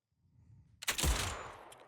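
Gunfire in the video game Zenless Zone Zero: a sharp loud burst of shots hits after a quiet low rumble, then rings out and decays with a ragged tail.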